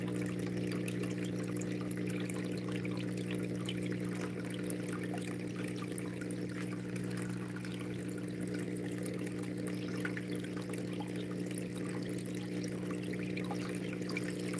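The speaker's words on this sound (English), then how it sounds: "The sound of water" Water runs steadily over a Miller table separating gold, a continuous low, even wash of flowing water with a faint trickle, no voices.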